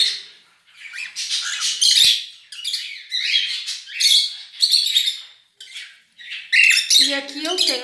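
A lutino cockatiel pair and other aviary birds squawk and chirp in repeated loud, close bursts with brief pauses between, the calls overlapping throughout, and a lower chattering call enters near the end.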